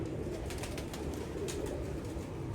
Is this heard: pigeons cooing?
yes